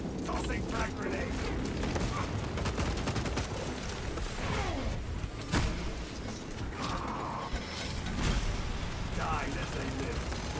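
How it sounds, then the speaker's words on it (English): Gunfire and a frag grenade blast from the Space Marine game crackle and thud amid clanking mechanical battle noise, a sharp burst standing out midway, with a voice talking over the steady din. "Tossing frag grenade."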